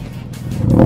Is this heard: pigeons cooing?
no